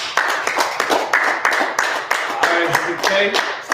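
Hands clap in a quick, uneven series of sharp claps close by, with voices mixed in.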